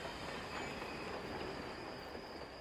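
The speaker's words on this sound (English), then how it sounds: "The whistle would echo through the rolling farmland and pastures that made up the Platte River Valley as the train made its way" A train rolls steadily along rails with a continuous rushing rumble and a high squealing whine from the wheels, heard alone and fairly faint in the distance.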